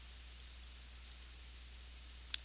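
A computer mouse gives a few faint, sharp single clicks spaced irregularly over a low steady hum, the last click the loudest.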